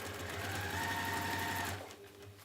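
A sewing machine top-stitches a fabric washbag with a quick, steady mechanical whir close up, running for under two seconds before stopping abruptly.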